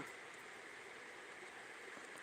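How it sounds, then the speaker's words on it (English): Floodwater rushes in a steady, broadband roar with no breaks, close and constant throughout, with no voices over it. "the sound of that water is just freaky"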